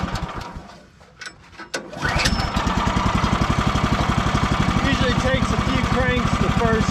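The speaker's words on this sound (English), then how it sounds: "we are ready to fire it up and crank it up." A sawmill engine cranks and catches, then settles into a loud, steady, rapidly thumping idle close by, after a brief quieter stretch with some voice at the start.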